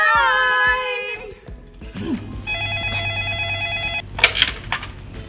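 A telephone rings in short bright electronic trills alongside other brief tones and chirps, fairly close and loud, with no talking.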